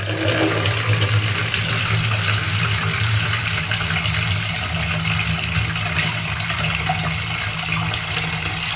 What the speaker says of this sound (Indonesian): Kita isi air.